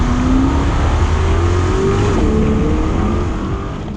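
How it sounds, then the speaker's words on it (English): A 2020 Corvette C8 Z51's pushrod V8, mounted behind the driver, revs hard and loud from inside the car, pitch climbing steadily, dipping at a gear change, then climbing again before easing off. "it only revs to 6 and a bit thousand RPM and it's got a big push rod V8 sound"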